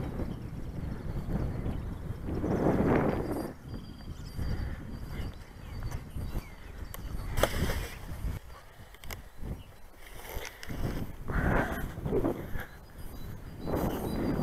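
Strong wind blows outdoors on a day of flying small gliders, with low rumbling gusts buffeting the microphone that swell and fade irregularly, loudest in a few heavy bursts.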